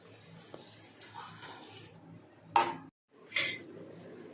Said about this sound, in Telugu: మరి అందులో చూడండి ఫ్రెండ్స్, కొద్దిగా వాటర్ అనేది వేసుకుందాం.